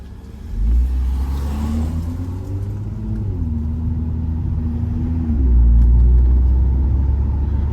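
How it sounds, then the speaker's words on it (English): A car passes close by on a road, its engine rumble swelling and then fading with a rising and falling tone, and a deeper rumble returning near the end. "Got a car coming here."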